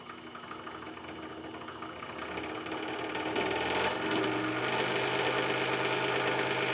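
A DeWalt DW788 20-inch variable-speed scroll saw runs with a steady, rapid reciprocating buzz and rattle. The sound grows louder and fuller as the speed rises partway through.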